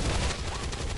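A loud, rapid burst of gunfire in XCOM 2, crackling continuously over a deep rumbling low end for about a second.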